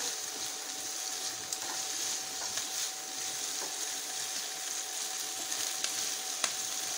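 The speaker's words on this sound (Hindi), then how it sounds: "इसको स्टर करते रहिए हिलाते रहिए नहीं तो वो प्याज को तो जलने का डर रहेगा" Steady sizzling of onions frying in a pan while being stirred, a constant close hiss with occasional faint clicks of the spoon, no voice over it.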